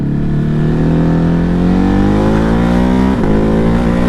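A Ducati Hypermotard motorcycle engine revving loudly close by, its pitch climbing steadily with a brief dip near the end before rising again.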